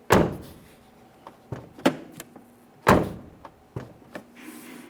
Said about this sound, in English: let's go ahead and test it by shutting and opening the door